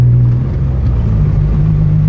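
Steady low engine drone of a car cruising in fifth gear after a rebuilt F5M33 gearbox with a limited-slip differential, loud and even from inside the cabin with no talking.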